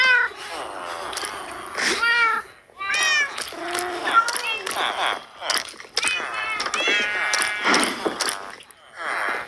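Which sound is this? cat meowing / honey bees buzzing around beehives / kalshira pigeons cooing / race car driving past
cat meowing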